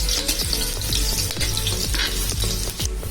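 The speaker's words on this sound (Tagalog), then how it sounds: "Unang gigisahin natin ay ang ginger." Ginger sautés in a hot oiled pan for a mussel dish, a loud, steady sizzle broken by repeated scraping strokes of a utensil stirring the pieces.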